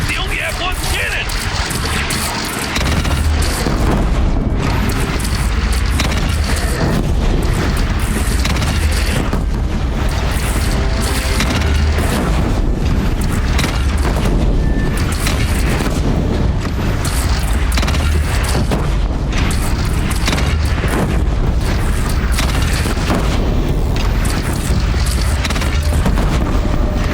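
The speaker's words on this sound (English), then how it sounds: "Gathering under the bridge, Aloy. Bring it down on him." A bridge brought down with explosions during a bandit clan battle in the video game Horizon Zero Dawn, heard as a dense, continuous roar of booms, rumbling debris and crashing mechanisms, loud throughout with voices mixed in.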